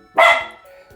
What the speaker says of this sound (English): Sorry about that, guys. That was my dog.